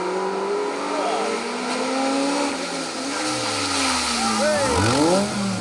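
A Peugeot 206 rally car races along an asphalt stage, its engine revving and climbing through gears with sweeping pitch changes as it passes, while a commentator talks over the engine noise.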